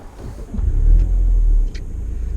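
A 2016 MINI 5-door Carbon Edition car on the move, its low engine rumble swelling and holding steady before easing off, heard from inside with no talking.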